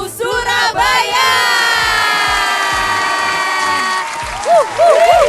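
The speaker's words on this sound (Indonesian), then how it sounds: "Ini tepuk tangan dulu kali ya." Audience at a live Bagi Rapot Keliling Tuku show in Surabaya claps and cheers in a loud, sustained wash of sound, with whoops and shouts rising above it and a short musical melody near the end.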